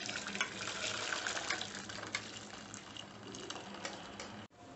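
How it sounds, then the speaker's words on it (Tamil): Vegetable stock for restaurant-style veg manchow soup is strained, with liquid pouring steadily through a strainer into a vessel, a continuous close splashing stream that stops abruptly near the end. "இப்போ வெஜிடபிள் ஸ்டாக்கை நம்ம வடிகட்டி எடுத்துக்கலாம்."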